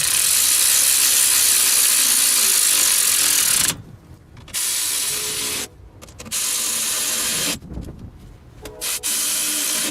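A hand ratchet snugs up bolts on a Mercedes ML350 transfer case in three loud bursts of rapid clicking, separated by short silent pauses, with no voices.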